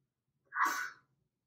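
One short, sharp sneeze, close and fairly loud, bursting out suddenly and fading within half a second, surrounded by near silence.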